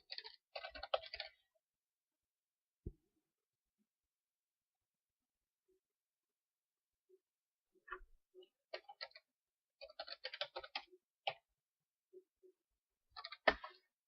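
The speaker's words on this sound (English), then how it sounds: "And I can type in my details." Login details are typed on a computer keyboard in short bursts of quick, faint key clicks, separated by long silent pauses and a few isolated taps, with no voice.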